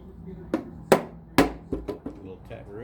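Several sharp metallic taps of a tool striking bolts, irregular and close, the loudest two coming in quick succession, with faint murmuring voices toward the end.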